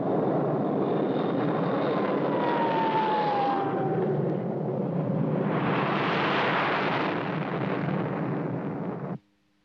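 Fighter jets flying in a movie about intercepting a missile: a continuous loud jet roar with a falling whine, then a fresh surge of rushing noise before it cuts off abruptly.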